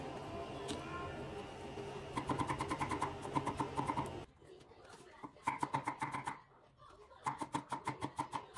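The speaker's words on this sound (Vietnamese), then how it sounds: "chúng ta sắt thành sợi" A knife chops kohlrabi into thin strips on a cutting board in a home kitchen, giving rapid rhythmic bursts of close, crisp taps that pause and resume several times.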